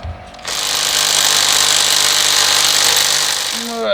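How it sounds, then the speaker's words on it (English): A cheap knockoff Makita power tool, likely an impact wrench, loosening bolts during a 2007 Hyundai Sonata water pump replacement, running as a loud steady buzzing hammer for about three seconds before winding down. "It's my fake Makita."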